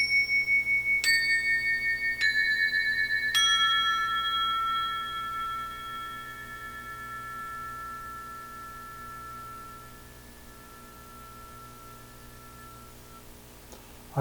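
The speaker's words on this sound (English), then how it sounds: "I have this beautiful string of bells. These are from UFIP in Italy." A string of UFIP bells from Italy rings out in three bright, distinct strikes about a second apart, each leaving a pure, shimmering tone that slowly decays over several seconds into quiet near-silence.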